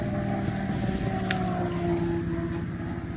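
An engine-driven machine grinds corn for animal feed, a loud continuous motor drone with a steady mechanical whine running throughout, no voices.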